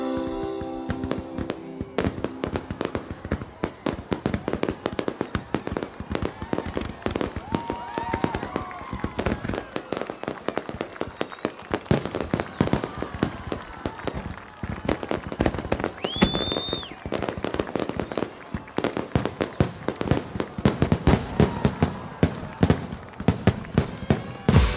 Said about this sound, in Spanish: fabulosos espectáculos de fuegos artificiales